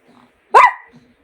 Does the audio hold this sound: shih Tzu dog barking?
yes